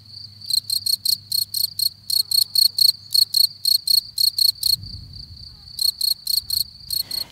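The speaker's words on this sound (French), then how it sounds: "Celle-ci, c'est celle du grillon des champs." Field cricket chirping at its burrow entrance in spring, a loud, close, high-pitched song of rapid regular pulses grouped in bursts, with a brief pause before the chirping resumes.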